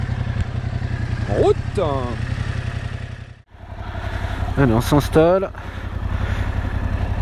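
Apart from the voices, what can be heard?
Yamaha Tracer 700 twin-cylinder motorcycle engine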